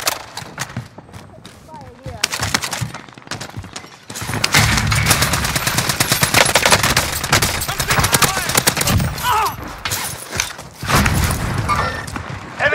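Rapid bursts of gunfire from a Warzone match with an EM2 SMG, dense and loud through most of the stretch, with brief lulls and game voice callouts mixed in.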